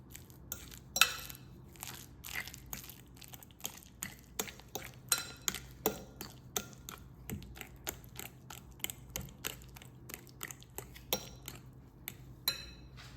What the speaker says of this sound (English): Time to mash. I'm using a fork here